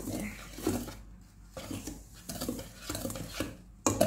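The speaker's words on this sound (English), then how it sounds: "we will mix all the dry ingredients together until it's all mixed" Dry baking ingredients, already sifted, being mixed together in a bowl: repeated soft scraping and stirring strokes with light clinks of a utensil against the bowl, close by and fairly quiet.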